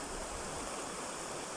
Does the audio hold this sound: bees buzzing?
no